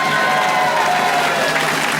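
A studio audience claps steadily and loudly in sustained applause with some crowd noise, without speech.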